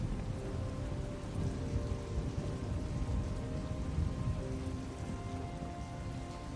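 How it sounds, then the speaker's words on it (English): Steady rain falls in The Walking Dead Season 2 video game, a continuous broadband hiss of drops that holds at an even level throughout, with no voices. "Is it raining? I think it is."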